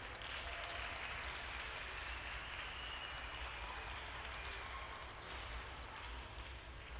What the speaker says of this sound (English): Can we give our hot shop crew a round of applause?